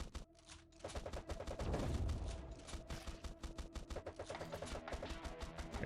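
Gatling minigun fire in the bullet-heaven game Swarm Grinder: a dense, rapid stream of shots rattles on for several seconds, swelling loudest near the start, over quieter background game music.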